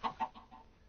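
A chicken in a survival island video game gives a few quick, soft clucks, two sharper ones followed by fainter trailing notes, with no talk over them.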